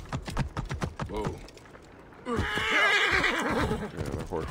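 A horse neighs loudly and close by in Assassin's Creed Origins, with a long whinny and nearby hoofbeats, while a voice talks over parts of it.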